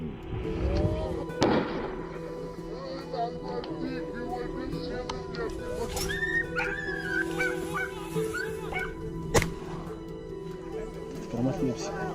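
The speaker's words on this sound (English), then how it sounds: "the dogs' barks echoed through the woods, signaling they'd caught the scent of wild boars" Hunting dogs bark in woods while tracking wild boar, scattered yips and barks at a middle distance, with a sharp bang or two and a voice talking over much of it.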